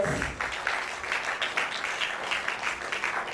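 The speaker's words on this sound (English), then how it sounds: "Please give them a round of applause." Audience applause at a debate event in Ile-Ife, a dense, steady wash of clapping from a crowd that holds at an even level for a few seconds, with no voices rising above it.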